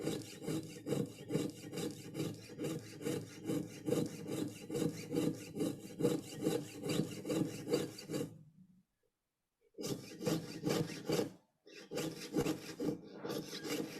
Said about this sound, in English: nice full strokes using the whole length of the blade, straight up and down